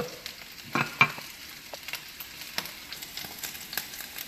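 Chicken legs frying in a pan for a tomato-sauce dish give a steady, close sizzle with scattered crackles and pops, with no voices.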